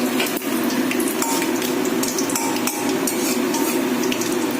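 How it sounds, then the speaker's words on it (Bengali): Nigella seeds crackle and sizzle in hot oil in a wok, a steady frying hiss with a few faint clinks of the pan. "কড়াইতে তেলের মধ্যে আমি কালো জিরেটা ফোড়ন দেব"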